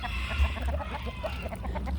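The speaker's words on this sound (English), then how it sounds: "And now the chickens are cleaning up the mess." A few chickens peck at a broken duck egg, clucking softly and steadily close by over a low background rumble.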